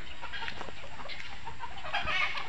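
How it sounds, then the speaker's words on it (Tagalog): Various breeds of chickens clucking and chattering nearby at a wildlife rehabilitation center in Laguna, several birds at once in a continuous murmur, with occasional louder squawks. "Ayan, iba-ibang uri ng manok."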